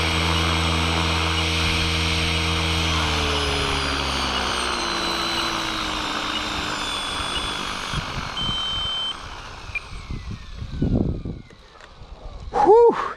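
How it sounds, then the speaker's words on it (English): Align T-Rex 500X RC helicopter on its maiden flight, a loud whining rotor and motor hum with falling pitch as it comes in to land, then spinning down, followed by brief handling noises. "there was maiden flight with the TRex 500X"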